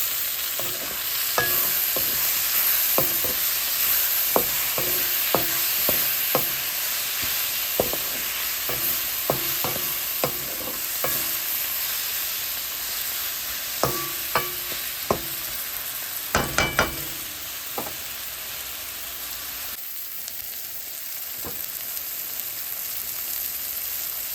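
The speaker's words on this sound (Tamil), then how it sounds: "இப்போ கோவா வதங்கினோடனே தக்காளி பழம் போட்டு வதக்கி கொள்ளுவோம்." Tomatoes sautéing with softened cabbage in a pan, a steady soft sizzle under repeated sharp clinks and scrapes of a spoon stirring against the metal, close up and without talk.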